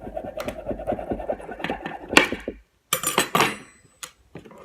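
Knife cutting brittle blueback candy into pieces: a run of quick scraping, crunching strokes, then several sharp cracking snaps with short silent gaps between them, close and fairly loud.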